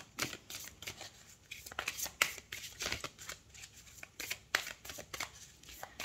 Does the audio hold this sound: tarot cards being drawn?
yes